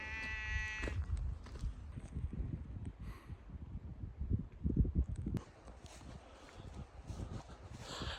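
Goats bleating on a farm, one bleat at the start and faint calls later, over close rustling and a steady low rumble.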